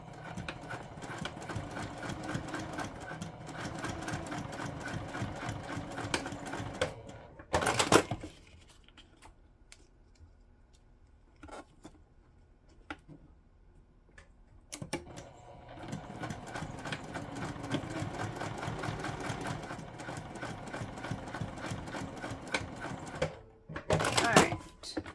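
Domestic sewing machine stitching along the outside edge of a sewing project, running in two long rapid bursts of rhythmic needle clatter separated by a quiet pause with brief clicks and handling sounds.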